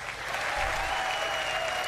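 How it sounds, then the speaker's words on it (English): Steady audience applause fills the hall at the E3 2016 Ubisoft press presentation, a dense continuous clatter of many hands clapping at once. "That deserves applause."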